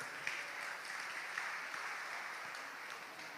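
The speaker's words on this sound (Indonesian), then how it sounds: "Beri tepuk tangan dulu yang meriah untuk kita semua" An audience applauds at an evening coronation ceremony for the Agam Inong Banda Aceh 2023 pageant, a steady wash of many hands clapping, heard faintly and evenly throughout.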